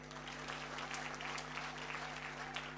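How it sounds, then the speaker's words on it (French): An audience in a hall applauds during a speech recalling a wedding celebration, a faint, even wash of many hands clapping heard from a distance, with a steady low hum underneath. "Applaudissez pour nous."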